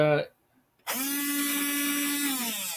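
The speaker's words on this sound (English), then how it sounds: "I have a little portable blender. This little blender here is Oh yeah. wireless," A small portable wireless blender motor whirs loud and close with a steady high whine for about two seconds, starting right after a brief voice.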